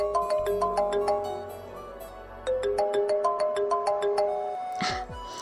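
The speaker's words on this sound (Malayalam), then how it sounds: "ആ ഫോൺ എടുക്കടോ, ഞാൻ വെയിറ്റ് ചെയ്യാം." A phone ringtone plays a repeating electronic melody of bright tones, loud and close, in two phrases before cutting off.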